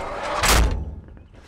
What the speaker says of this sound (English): can see how smooth and heavy duty the door operation is on the 12V